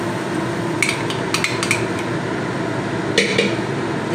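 Tadka is poured from a pot into a kadai, with a few bright metallic clinks and scrapes of the utensils over a steady, loud background hiss.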